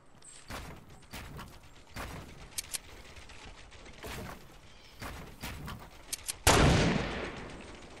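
Video game gunfire: scattered single gunshots and short bursts, some sharp and close, others more distant, with one loud blast near the end, no talk over them.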